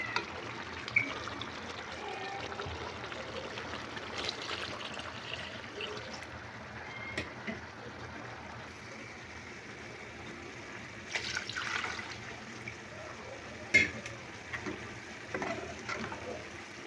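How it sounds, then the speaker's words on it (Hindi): Water is poured into a pot of aloo gosht curry after the meat and ghee are browned, a faint trickling splash heard up close in a quiet kitchen. "अब मैं इसमें पानी ऐड करूँगी।"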